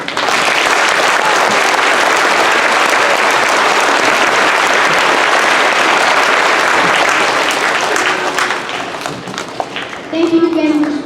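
A school audience at a Veterans Day celebration gives loud, dense applause for a veteran speaker, a sustained roar of many clapping hands that thins near the end as a voice begins speaking.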